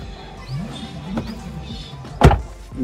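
A door is pulled shut with a single solid thud near the end, preceded by quieter creaks and sliding sounds close by.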